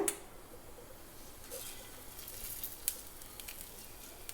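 Cumin seeds sizzle in hot coconut oil in a pan for a Tamil mor kuzhambu, a faint, steady frying hiss with a few tiny pops and ticks.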